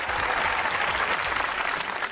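A studio audience at a comedy talk show applauds loudly and continuously, a thick, even roar of clapping from a crowd with no pauses.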